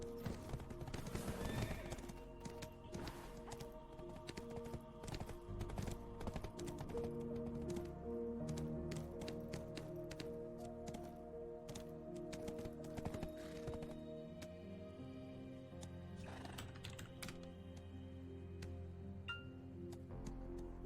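Rhythmic clip-clop of galloping horse hooves runs throughout with neighs and whinnies, set over the musical backdrop of the video game Black Desert Online and occasional key taps.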